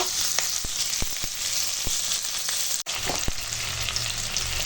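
Onion frying in hot oil in a pan makes a loud, dense, continuous sizzle, with scattered pops and one brief dip, close up and without speech.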